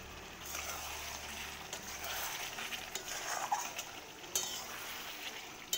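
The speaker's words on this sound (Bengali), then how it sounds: "এই মাটনটা দিয়ে তেল ছাড়তে শুরু করে দিয়েছি।" Mutton stirred and frying in oil in a pot, a steady sizzle with intermittent scraping and clinks of a spoon against the pan.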